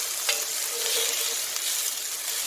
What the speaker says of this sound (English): I'm going to brown and caramelise the whole onion that I chopped up